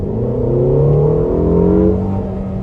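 A 2015 Ferrari California T engine in sport mode revs hard toward high RPM, a loud, close, sustained roar with rising harmonic tones that swell and ease slightly, with no voices.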